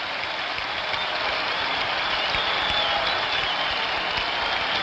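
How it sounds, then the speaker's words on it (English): A packed baseball stadium crowd at the 1975 World Series Game 6 between the Reds and Red Sox roars in a dense, continuous, loud wash of cheering with no break. "Crowd comes alive."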